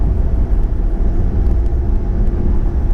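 A Rolls-Royce accelerates smoothly up a bridge, its engine a steady, loud, low drone blended with road and wind noise heard from inside the cabin, with no speech.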